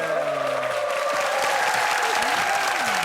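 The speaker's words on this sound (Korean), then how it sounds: "박수 한번 박수 해주시죠" Studio audience applause on a Korean TV variety show about an army unit, steady clapping under tonal music or sustained tones that gliding pitches cross, with no break across the few seconds.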